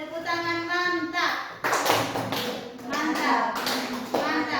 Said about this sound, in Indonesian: Kita kasih tepuk tangan mantap untuk semua teman yang sudah bisa menjawab.